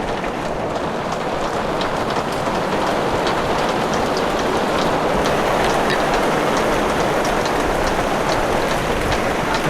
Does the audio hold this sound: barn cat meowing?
no